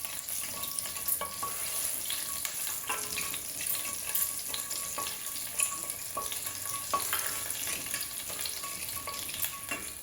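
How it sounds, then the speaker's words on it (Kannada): Mustard seeds, cumin and chillies tempering in hot oil for bisi bele bath, a steady close crackling sizzle with scattered sharp pops running throughout, no talking. "ಮೆಣಸಿನಕಾಯಿ ಹಾಕ್ಬಿಟ್ಟು ಒಗ್ಗರಣೆ ಮಾಡೋಣ."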